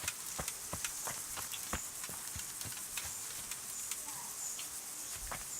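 Horse hooves clip-clopping in Kingdom Come Deliverance, a run of sharp irregular thuds over a steady bed of crickets and insect chirps, fairly close and moderately loud.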